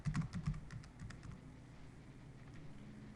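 A short burst of quick computer keyboard keystrokes as a password is entered, crisp close clicks in a rapid cluster that taper off into a quiet room hum.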